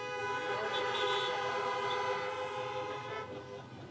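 An air horn gives one sustained, bright, multi-tone blast at a college commencement, loud and alone for nearly four seconds.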